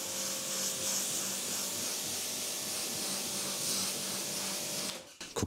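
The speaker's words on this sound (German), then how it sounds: "sprühe nochmal drauf." Sonax wet sealant is sprayed onto a car's paintwork with a steady, close hiss that runs for about five seconds before stopping abruptly, followed by a few brief handling clicks.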